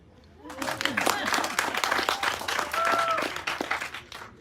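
An audience claps at a launch event, a dense, steady burst of applause that swells quickly and holds for several seconds before tapering off, with voices mixed in.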